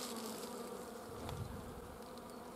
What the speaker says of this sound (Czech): A koukněte, jak nám ty včeličky tady krásně létají